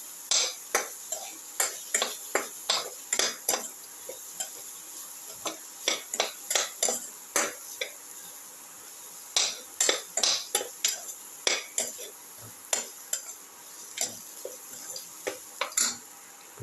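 A ginger and tomato mixture is sautéed in a pan, with a spoon scraping and tapping against the metal in quick irregular clinks over a faint steady sizzle.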